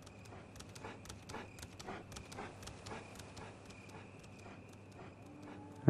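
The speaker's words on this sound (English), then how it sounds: "I hear footsteps." Regular footfalls in the Resident Evil video game, a steady string of sharp steps over a low ambient hum, moderately close, with no talking.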